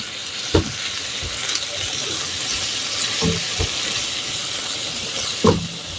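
Spices with turmeric, chili, cumin powder, green chili and ginger paste are sautéed with goat liver and potato in a pan, giving a steady hiss punctuated by a few sharp utensil scrapes and clanks.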